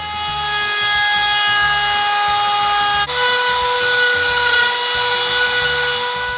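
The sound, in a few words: Harbor Freight trim router routing a wooden board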